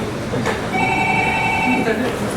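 A mobile phone rings with a thin tonal beeping during an agency director's talk to staff and contractors, sitting faint under steady room noise and voices.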